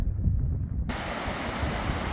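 Water of Jenny Creek flowing, a steady broadband rush that starts faint and then fills in loudly and continuously, close to the bank with no voices.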